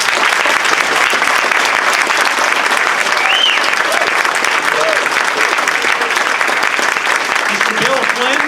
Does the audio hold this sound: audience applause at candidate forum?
yes